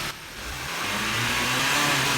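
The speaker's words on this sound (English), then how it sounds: "with the traction control off, the car is going to run through all the gears" A car engine with traction control switched off revs and climbs steadily as it runs up through the transmission gears while the drain plug waits to come out, giving a loud, sustained, rising drone with no talk.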